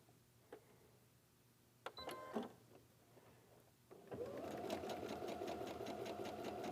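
A sewing machine stitches a quilt block: a few faint clicks and handling noises, a brief burst of mechanical whirring, then steady fast needle chatter running loud and close to the end.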